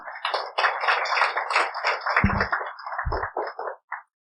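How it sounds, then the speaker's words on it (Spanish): A church congregation claps together during a pastor's sermon, producing a lively, dense patter of hands that holds for several seconds before thinning out and stopping. "Dale un fuerte aplauso a Cristo"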